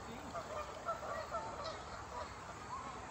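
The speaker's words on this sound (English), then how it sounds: "Geese." Geese honking at a wildlife park, with several nasal calls repeating irregularly at a moderate distance over faint background noise and murmuring voices.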